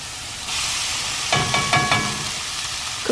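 Beans tossed into a pan of softened onion and pepper at an RV campsite set off a sizzling hiss, followed by a few clattering stirs and scrapes, close and moderately loud.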